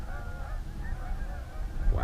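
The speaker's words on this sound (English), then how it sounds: "There's a goose party going on." A flock of geese honks continuously at a distance over a low rumbling wind or outdoor background, the nasal calls overlapping and fairly faint, with no talking.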